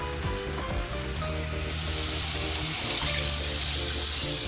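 A cup of water poured from a seasoning bowl into a pot of chicken for stew, a continuous splashing pour lasting several seconds with a faint sizzle from the pot beneath and no talk.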